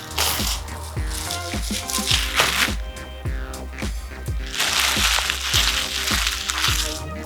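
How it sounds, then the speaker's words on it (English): Protective plastic film being peeled off a newly installed Klock Werks 11-inch Sport Flare windshield on a 2024 Harley-Davidson Road Glide, giving a continuous close crackling and crinkling with repeated sharp snaps, loud and without speech. "pull the sticker, the plastic off"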